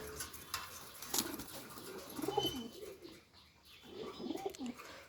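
Pigeons on a farm keeping Pakistani and racer breeds give soft, low coos in two or three short bursts over faint background chirps and rustling.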